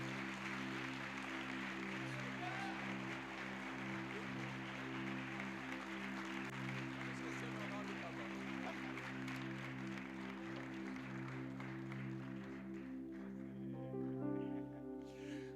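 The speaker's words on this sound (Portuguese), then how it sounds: "Eu quero que você aplauda o Senhor Jesus pela vida do nosso querido pastor Márcio." A church congregation applauds at a Tuesday service, a sustained, even patter of many hands over steady held keyboard chords that run beneath it throughout.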